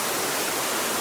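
A giant waterfall deep in the Amazon rainforest of French Guiana gives off a steady, dense roar of falling water with no pauses.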